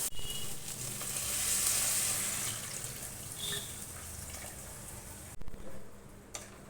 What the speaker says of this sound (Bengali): এবার এতে আমি পরিমাণ মতো জল দিয়ে দেবো